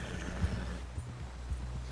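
Horse hooves clip-clop in a steady walking rhythm, mixed with a brief whinny, in the Red Dead western video game; the sounds are moderately close and carry over a low ambient rumble with no talking.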